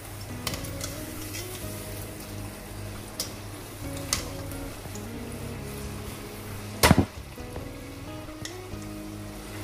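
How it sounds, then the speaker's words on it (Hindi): Garlic potato wedges fry in a pan over medium-low flame, giving a steady soft sizzle with occasional light taps and one sharp clatter near the end, no talking. "वेजेस फ्राई हो रहे हैं।"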